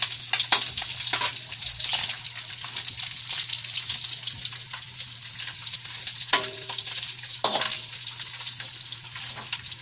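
Oil sizzles and fries in a pan as dried fish cooks for monggo, a continuous crackling hiss with scattered pops and a low steady hum beneath, close and alone without talk.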